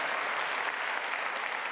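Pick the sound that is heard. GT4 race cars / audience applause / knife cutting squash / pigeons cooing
audience applause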